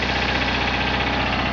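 A Cub Cadet 2082 garden tractor engine runs steadily nearby, a loud, continuous mid-pitched rumble with a rapid knocking pulse and no pauses.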